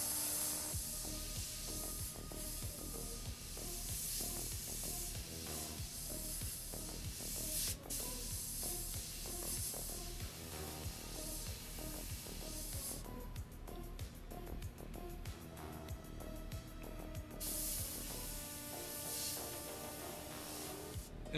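Faint spray painting lays a base camouflage coat on a Takom M60A3 tank model kit with an M9 bulldozer, a soft continuous hiss with brief stronger bursts.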